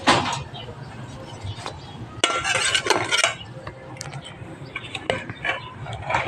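Utensil clinking and scraping through food in a cooking pan with oil, in irregular bursts of stirring with a few sharp metallic knocks, close and moderately loud.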